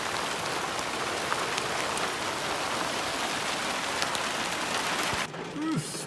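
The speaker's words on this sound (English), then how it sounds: "Started hailing" Hail falls during a rainy day in Massachusetts, a loud, dense patter of close impacts that clatters steadily, then cuts off abruptly near the end into a quieter background with a faint tone.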